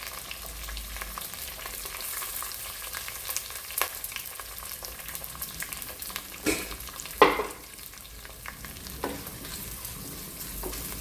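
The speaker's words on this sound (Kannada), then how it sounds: "ಈಗ 2 ಈರುಳ್ಳಿ ಹಾಕಿ ಇದು ರೆಡ್ ಕಲರ್ ಬರುವ ತನಕ ಫ್ರೈ ಮಾಡಬೇಕು" Two onions fry with fenugreek and curry leaves over high flame, producing a quiet, steady sizzle broken by a few sharper scrapes and clinks of stirring, with no one speaking.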